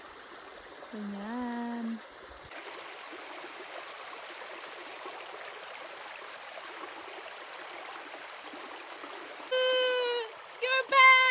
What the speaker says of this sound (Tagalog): dinig ba yung agos ng tubig